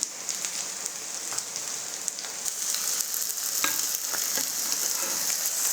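Thin chicken pieces fry in a pan for homemade grilled chicken foldovers. They give a steady close sizzle with scattered pops and crackles and no talking.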